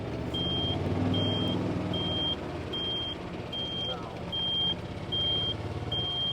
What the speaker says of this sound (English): He's got that beeper on the turn signal, so we remember to turn it off.